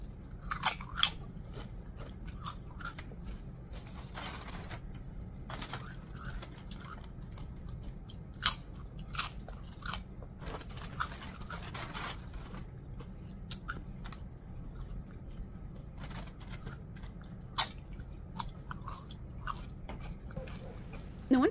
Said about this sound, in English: It's all like crunching and mouth sounds